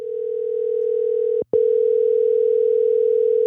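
A steady telephone dial tone holds nearly unbroken, cut by one brief gap midway, loud and close, with no talking.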